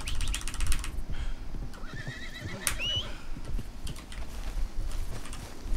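A horse neighs and whinnies in the Red Dead Redemption video game, a short rising-and-falling call near the middle, set against steady in-game ambient noise with faint clip-clop and clicking sounds around it.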